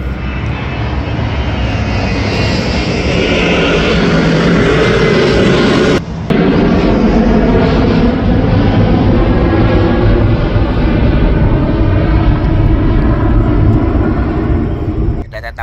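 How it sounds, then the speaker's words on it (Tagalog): Airplane passing low over Pearson airport, a loud sustained engine roar filling the scene close overhead, with people talking beneath it. "aeroplano na naman."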